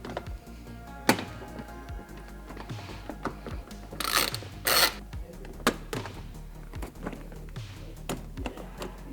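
Ratchet wrench removing 10mm bolts from a 2022 Subaru WRX during a ram air intake snorkel install, heard as quiet repeated clicking ratchet strokes mixed with mechanical taps and a couple of louder rasping bursts, with no talking.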